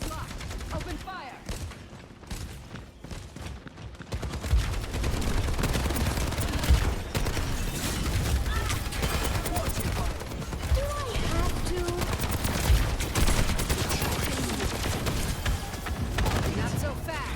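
Sustained gunfire in the video game Overwatch, dense overlapping bursts and rattling shots that run nearly continuously and stay loud, with a voice talking over the battle.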